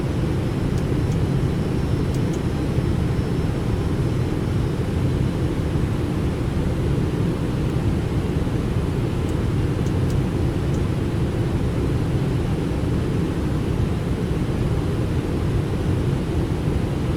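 A Boeing 777 descending to land at Hong Kong runway 25C in the X-Plane 12 flight simulator, its engine and airflow roar a loud, steady, unbroken wash with no talk over it.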